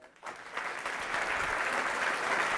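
A lecture audience breaks into applause after a brief quiet, the clapping building quickly and then holding as a dense, steady wash of many hands, moderately distant.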